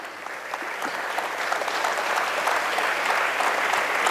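Sustained audience applause at an NCC cadet honouring ceremony in Mysuru, a steady wash of many hands clapping that holds fairly loud and even throughout, with no voices standing out.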